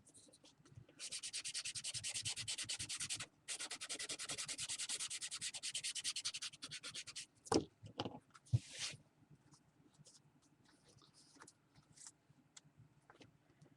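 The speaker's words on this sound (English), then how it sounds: "sander here and just sand the edges" A small hand sander rubbing the cardstock edges of a ribbon-woven Christmas card, a steady, raspy scrubbing in long strokes with a brief pause, then some handling knocks and quieter scraping.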